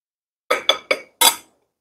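Sorghum (jowar) cake batter being mixed in a bowl gives four sharp clinks of a utensil against the bowl, the last slightly longer, close and clear with silence around them.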